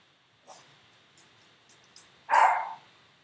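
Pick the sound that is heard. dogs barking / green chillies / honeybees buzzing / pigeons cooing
dogs barking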